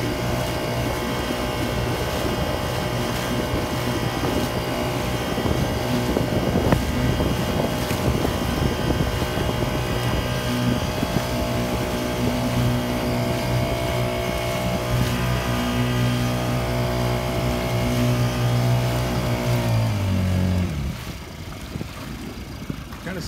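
Lifan 35cc four-stroke outboard motor running wide open on a Nucanoe Frontier 12 kayak, a steady loud close drone with a buzzy harmonic whine that drops in pitch and fades near the end.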